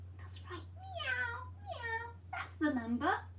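A human voice imitates a cat, giving several drawn-out meows in a row, close and clear, the last one louder, over a steady low electrical hum.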